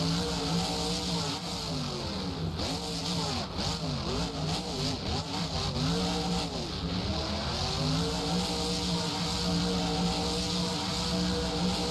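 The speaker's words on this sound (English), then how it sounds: "Truck whining in first gear there." A monster truck engine at a Houston monster truck show whines steadily in first gear, a loud continuous drone with rising and falling pitch sweeps, close and unbroken throughout.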